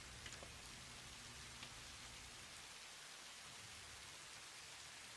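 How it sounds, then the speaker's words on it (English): Steady rain falls in the video game Satisfactory, a dense, even hiss of drops on surfaces that stays constant and fairly loud throughout, with no voices. "Just got the roof on in time. Started raining."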